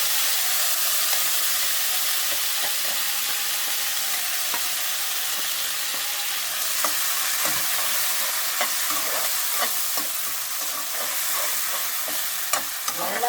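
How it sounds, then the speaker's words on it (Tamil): A ground paste for keerai thokku sautés in oil in a pan, giving a loud, steady hissing sizzle, with repeated scraping strokes of a spatula growing more frequent in the second half. "இந்த பச்சை வாடை போகிற வரைக்கும் நல்லா வதக்கணும்"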